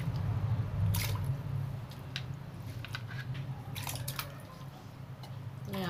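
Half a kilo of washed mutton being dropped into a bowl of water for Moradabadi biryani, heard as close wet squishes and drips, several brief splashy bursts over a low steady background hum, with no talking.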